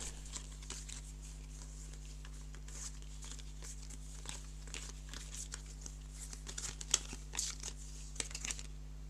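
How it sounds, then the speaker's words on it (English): Game cards are shuffled during a board game play test, a run of soft, rapid riffling and crinkly flicks close to the microphone under a steady low hum. "Let's give that a shuffle again."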